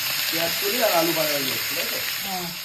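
Onions and potatoes sizzle in hot oil with green and dried chillies for onion fritters, a steady dense frying hiss with faint voices in the background.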